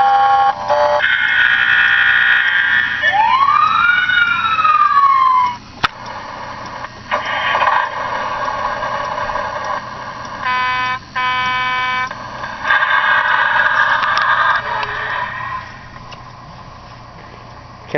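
Custom Power Wheels toy fire engine playing electronic siren and alarm tones through its speaker, loud and close, with rising and falling wails and beeping patterns continuing throughout.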